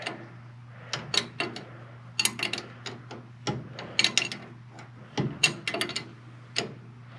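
During vehicle maintenance, a torque wrench tightens bolts with a rapid series of crisp ratcheting clicks in uneven bursts over a low steady hum.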